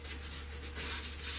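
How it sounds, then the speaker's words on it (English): Sander working over a fiberglass truck cap during paint prep, a steady close abrasive rubbing whir with a faint low hum underneath, brief and continuous. "And then I'm going to come in with a sander."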